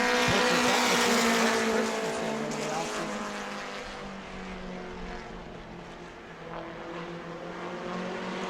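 Race cars roaring around a short oval track at a family fun night event at New Smyrna, a loud continuous engine drone with rising and falling passes under a track announcer's talk.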